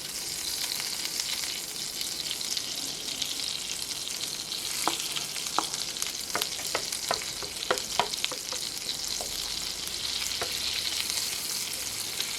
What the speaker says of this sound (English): add to your skillet a tablespoon of butter and a tablespoon of olive oil